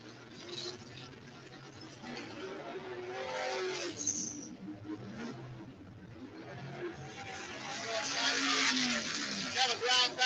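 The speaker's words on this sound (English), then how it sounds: "Show you some action cars going into the turns." Race cars at a local short-track event roar through the turns, engine noise rising and falling steadily at moderate distance while someone talks over it throughout.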